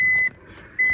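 A car warning chime from a 2011 Maserati GranTurismo S with its door open sounds twice, a steady tone followed by a gap and then the tone again, close and clear over a faint engine hum.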